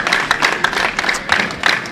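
Crowd at the 2014 World Men's Championships bowling singles medal round applauding a strike, a steady patter of clapping from an arena audience, moderately loud and continuous.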